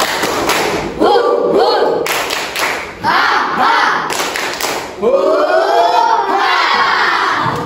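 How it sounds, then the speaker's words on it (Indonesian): Children in an Indonesian classroom perform the tepuk semangat clapping chant, loud bursts of rhythmic claps and thumps mixed with shouted chanting voices, repeated in several sections that stop and start. "Bisa yuk sama-sama tepuk semangat."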